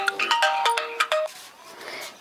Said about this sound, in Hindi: केकर फोन आई गवा देखी।